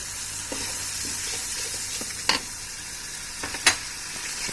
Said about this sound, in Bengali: মশলাটা একটু হালকা কষানো হলে এটার মধ্যে আমি আলুটাকে দিয়ে দিব।